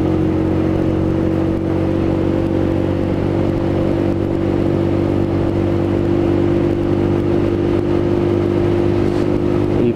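A Lexmoto ZSB 125 motorcycle chugs along a road in fifth gear. Its engine gives a steady, even drone with a constant hum and rushing wind or road noise, and no one speaks.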